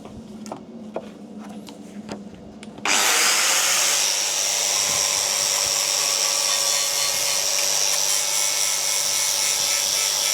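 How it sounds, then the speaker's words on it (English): Flap disc on an angle grinder sanding paint off a Series 3 Land Rover part, a few faint clicks and then a sudden loud, steady, high whirring grind that holds on close and unbroken. "I'm just going to use the flapper that we used on the carb elbow just to whiz round there"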